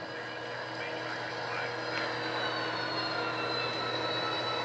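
Freight train cars rolling past at a local switching yard, a steady broadband rumble and hiss that holds evenly for several seconds without talk.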